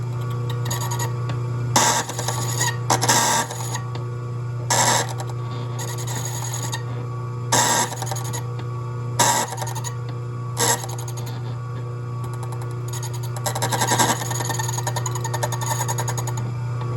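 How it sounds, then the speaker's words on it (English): An Ilco Improved Duplex key cutting machine with a sharp wheel cuts a key, a continuous motor hum under repeated rasping grinding bursts as the cutter works into the cuts, close and fairly loud, without speech. "Now I'm just going into the bottoms of the cuts and removing any extra material."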